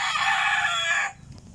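A rooster crows loudly and close by in one long, strained call that cuts off abruptly, leaving quiet background noise.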